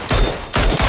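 Burst of automatic gunfire from the video game Battlegrounds, two loud rapid volleys close together, heard alone without talk.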